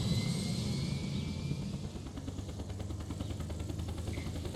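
An Apache helicopter lifting off in a video game, a faint, even rotor and engine drone whose rhythmic blade chop steadies into a continuous pulse after a couple of seconds, with no talking.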